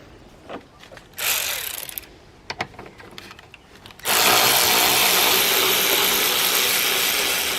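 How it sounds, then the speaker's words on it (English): A ratchet loosens 10mm bolts on the air box of a BMW 3 Series engine during a service. Close, uneven clicks and rattles come in bursts, then give way to a loud, steady broadband rush that lasts to the end, with no talking. "So I've removed those two 10mm bolts."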